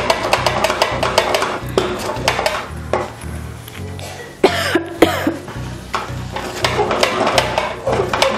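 Thick corn dough for makka saajiya stirred slowly in a heavy pot, repeated close scraping and clinking of the spoon against metal in an uneven rhythm, with a brief cough-like burst partway through.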